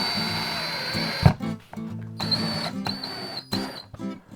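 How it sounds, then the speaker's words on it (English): A power drill drives into a wall while a guitar wall mount is being installed; short whirring bursts start and stop with brief gaps between them, close and fairly loud. "we just want to make sure we get this in the hole before we start drilling it"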